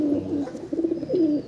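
A male pigeon cooing up close, a few soft throaty coos in quick succession, clear against a quiet background.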